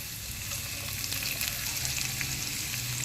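Ginger, chili and garlic frying in about five spoons of hot oil, giving a continuous dense crackling sizzle at steady volume with no talk.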